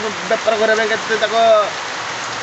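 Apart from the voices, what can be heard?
heavy rain falling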